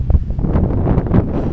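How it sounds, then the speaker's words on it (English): Wind buffets the microphone in low, rumbling gusts that rise and fall throughout, with no other sound standing out. "Sorry about the wind."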